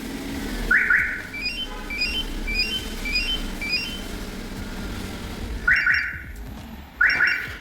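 A Chevrolet Spark's car alarm system sounds in a workshop setting, cycling through loud repeating electronic chirps and warbling beeps, with sharper bursts returning near the end over a low background rumble.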